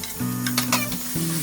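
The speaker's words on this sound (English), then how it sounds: "Once that sizzles for like a minute, I will add my ginger garlic paste and onion." Hot oil with cumin seeds sizzles in a pan in a steady crackling hiss, with a few clinks of a utensil against the pan and a low hum underneath.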